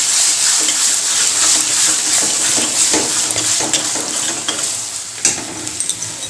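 A ground paste of onion, garlic, chili, tomato and ginger sizzles in hot oil in a pan while being stirred, a steady loud hiss broken by scraping and clinking stirs, with no talking.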